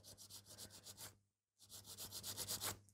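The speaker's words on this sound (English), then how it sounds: "we are filing away all the product which we don't need it" Quick rhythmic rasping of a nail file taking acrylic product off a long sculpted stiletto nail, close and quiet, in two bursts of rapid strokes split by a brief pause.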